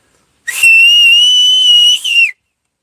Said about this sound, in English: do I need to buy a whistle? Start blowing it every time?